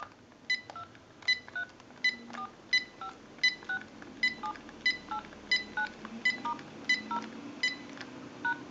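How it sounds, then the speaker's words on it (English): A General Electric 6.0 cordless telephone under repair dials out a number as a steady series of crisp DTMF tone beeps, each short, evenly spaced and clear, repeating about once per second with no talk over them. "We're going to dial our numbers out."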